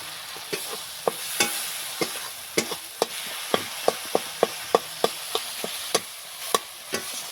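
Chopped tomatoes with a little salt frying in a pan for a village-style fish curry, a constant low sizzle broken by regular sharp spatula taps and scrapes as they are stirred, close, with no talk.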